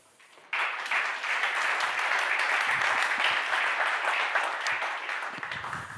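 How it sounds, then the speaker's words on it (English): Sustained applause from a conference audience at a digital summit in Warsaw, starting abruptly and holding as a steady dense wash of many hands, moderately distant and without talk. "Thank you for the applause"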